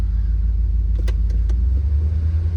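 A 1979 Camaro barn find, run after sitting for years, idles high on a gas jug fuel supply, a loud steady low drone with a few faint clicks partway through.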